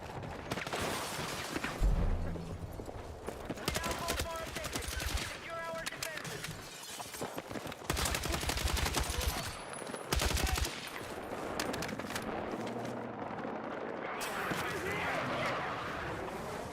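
Rapid gunfire crackles through a Battlefield 6 firefight in bursts and sustained volleys, with shattering impacts and movement sounds, loud and close under intermittent voices.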